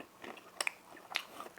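A couple of faint, crisp bites into a mugwort waffle made with rice flour and topped with cinnamon, heard as two small crunchy snaps amid quiet mouth noise, close to the listener with no talk.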